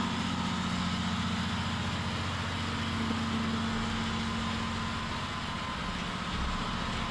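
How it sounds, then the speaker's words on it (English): An EMD locomotive-type diesel main engine runs in a tugboat's engine room, a loud, steady, droning roar with a low throbbing hum that holds constant and close throughout. "And these are the main engine."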